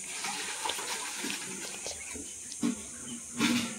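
Water trickles and gushes from a dwindling village spring, a soft continuous flow with a couple of brief louder splashes toward the end.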